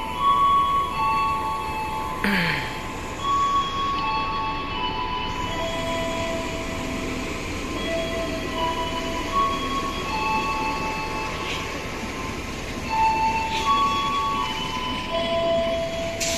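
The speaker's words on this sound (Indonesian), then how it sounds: "Kereta Brawijaya coy melintas di jalur 2." The Brawijaya train rolls steadily past on track 2 at Cirebon Prujakan station, a continuous rumbling clatter with metallic squeals and rattles, fairly close, with no talking.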